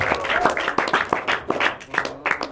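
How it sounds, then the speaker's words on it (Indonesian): Blind children at the El Safan foundation clap their hands in loose, uneven bursts, a small group heard up close with faint voices mixed in. "Tepuk tangan semua adik-adik"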